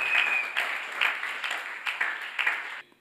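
Church congregation applauding during a Sunday service, a broad wash of clapping with several swelling bursts over about three seconds, then cutting off abruptly near the end.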